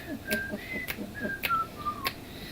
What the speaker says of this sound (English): Oh, that's my bad whistling.